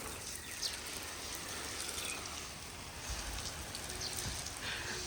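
Steady broadband hiss of water sprayed from a hose pattering onto a house in a Punjab village, Pakistan, continuous and fairly close, with a few faint bird chirps in the background.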